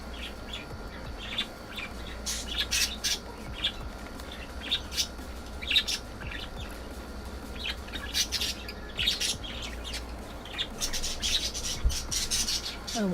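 Pet birds indoors chirping and squawking in scattered bursts over a low steady room hum, fairly faint, with no one talking.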